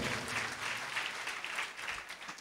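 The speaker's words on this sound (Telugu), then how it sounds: "చప్పట్లు కొట్టండి ఒకసారి." A church congregation at a Sunday service claps together in a steady, dense burst, the applause holding at an even level throughout without any voices over it.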